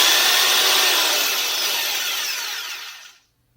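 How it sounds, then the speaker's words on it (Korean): An electric jigsaw runs with its blade reciprocating, a loud, dense, buzzing whine that holds steady, then winds down and cuts to silence near the end. "이렇게 빠른 속도로 왕복 운동을 해서 톱질을 전동으로 해주는 거예요."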